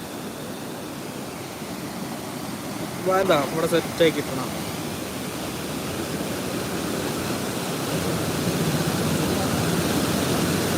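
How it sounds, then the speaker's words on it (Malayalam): Floodwater rushes through the fully raised shutters of a river bridge-dam at Oorkadavu, a broad constant roar close by, with a few people speaking briefly over it. "വെള്ളം കൂടിയോണ്ട് എല്ലാ ഷട്ടറും പൊക്കിയിട്ടതാണ്"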